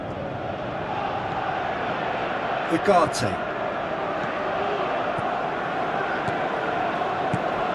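A subdued stadium crowd in the PES 2017 football game, during a Manchester United Master League match, holds a steady low murmur throughout. A commentator speaks briefly over it.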